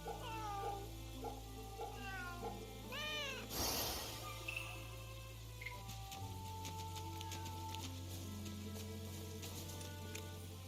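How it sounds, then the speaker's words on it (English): A cat in the video game Fate/Samurai Remnant gives several repeated, close meows over the game's background music, with no talk. "I can see a... cat up here"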